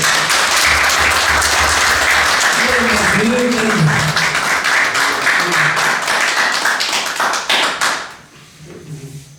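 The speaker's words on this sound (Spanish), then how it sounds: "Vamos a mandarle un aplauso al ingeniero Galán" Loud sustained applause from an anniversary gathering audience for an engineer, with a voice talking over the clapping before it fades out near the end.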